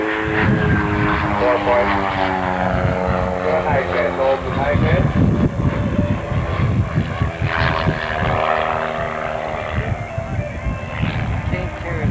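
An RC ultimate biplane flies an aerobatic routine at an airshow, its propeller engine droning continuously with rising and falling pitch, while a voice talks over it throughout.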